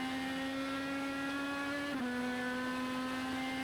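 A Legends race car on the track at Thompson drones with a steady, high-pitched engine whine heard from inside the car, the pitch dipping briefly and then holding steady again.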